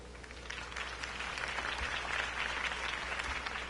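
A crowd applauds a campaign speech for Harvey Dent, a sustained wash of many clapping hands that swells slightly, with a low hum beneath.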